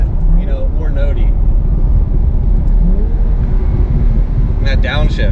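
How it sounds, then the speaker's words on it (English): A 2003 Ferrari 360 Modena V8 engine with spider exhaust drones steadily and loud, with wind buffeting, as a voice speaks over it and the pitch shifts on a downshift near the end. "And that downshift is just epic."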